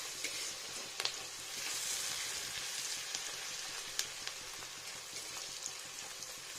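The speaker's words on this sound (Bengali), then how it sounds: "তা একটু ভাজতে হবে সুন্দর করে এটা ভেজে নিই" Garlic, onion and ginger fry in a pan, making a soft, even sizzle like light rain with occasional small pops, heard fairly quietly and with no voices.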